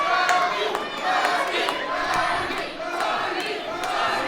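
A crowd roars and cheers at a WFC mixed martial arts fight in Tulsa, a dense, sustained wash of shouting voices close and loud throughout.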